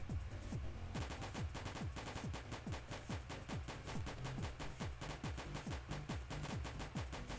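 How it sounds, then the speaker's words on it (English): Minigun fire in the zombie shooter Oh no! Zombies alive, a loud, continuous rapid stream of closely spaced shots running through the whole stretch, dense and steady with no pauses and no voices. "I have a minigun."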